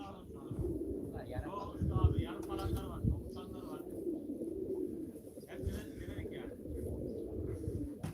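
Low, soft cooing of pigeons at a live pigeon auction repeats throughout, blended with rustling and someone talking nearby.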